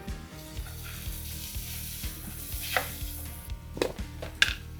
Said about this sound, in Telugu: అలాగే ఇందులో ఒక పచ్చిమిర్చి కూడా కట్ చేసి వేసుకోవాలి